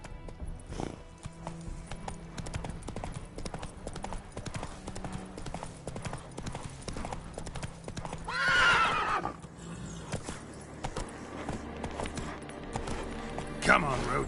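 Horse galloping in The Witcher 3 video game: a steady, rhythmic clip-clop of hooves runs throughout, with a whinny partway through, under music and a voice.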